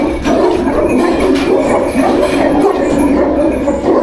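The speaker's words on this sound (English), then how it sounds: "They have more than 300 massive Tibetan dogs." Tibetan mastiffs bark in a large pack of more than 300 dogs, a loud, continuous chorus of deep barking and yelping with voices mixed in.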